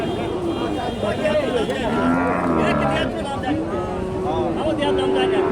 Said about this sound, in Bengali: আর এটা গাভী